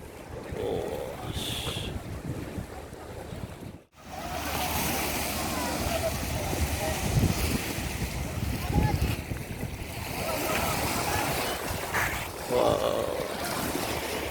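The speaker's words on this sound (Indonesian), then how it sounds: "Kita akan nikmati indahnya pantai" Beach waves wash and roar in a continuous broadband rush with wind buffeting the microphone, loud and close throughout, briefly cutting out near the start.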